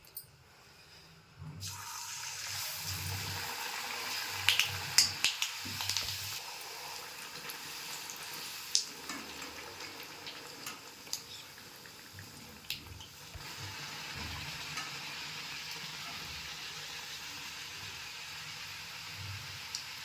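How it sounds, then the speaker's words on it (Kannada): Spicy jowar (sorghum) vadas drop into hot oil and deep-fry over high heat, a faint, continuous bubbling sizzle scattered with small pops and crackles that carries on for around twenty seconds. "ಎಣ್ಣೆ ಕಾದಿದೆ, ಎಣ್ಣೆಯಲ್ಲಿ ಹಾಕ್ಕೊಳ್ಳೋಣ."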